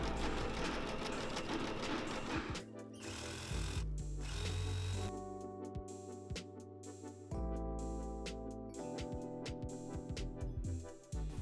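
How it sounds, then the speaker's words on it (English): Sewing machine stitching a seam on a skirt waistband, with quiet mechanical whirring in bursts and stops, some clicking and handling in between, and no talk. "I'm going to open it and sew one first seam here."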